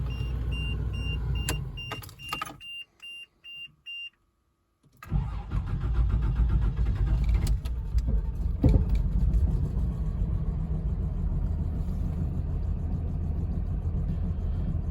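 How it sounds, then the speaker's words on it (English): An 80s series Toyota Land Cruiser engine cranks with a few warning chimes and a pause, then starts and settles into a steady, close, rumbling idle with slight unevenness. "I'm gonna start it up for y'all and let it idle for a little bit"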